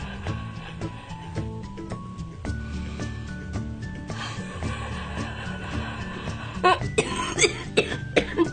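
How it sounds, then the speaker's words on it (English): A patient coughs up mucus during manual chest physiotherapy, with several short wet coughs clustering near the end over a steady background of music-like tones and faint clatter. "as she breathes in and exhales, some of that mucus is able to be coughed up"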